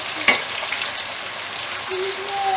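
Chicken, tomato and onion frying in a pan for spaghetti, a steady close sizzle and hiss throughout, with one sharp utensil tap near the start and no talking.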